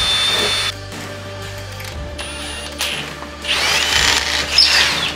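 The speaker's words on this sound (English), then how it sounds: "Now to drill some holes and anchor to the wall." A power drill whirs close by in several bursts, drilling holes into a wall, pausing between runs and rising to a loud, high-pitched grind near the end.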